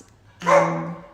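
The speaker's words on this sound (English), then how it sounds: "that's my dog" A dog gives a single short bark or yip, close and fairly loud, that rings briefly and fades in a quiet room.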